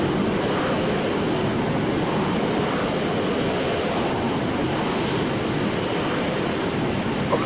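Boeing 737 jet engines spool up for the takeoff roll, a loud, steady broadband roar that holds at constant intensity throughout, close and unbroken with no voices over it.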